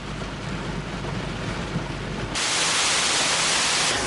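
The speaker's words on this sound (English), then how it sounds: "Hatton town was experiencing heavy rain this evening as well" Heavy evening rain falling on Hatton town, a dense continuous hiss that swells louder and brighter partway through, steady and enveloping with no voices.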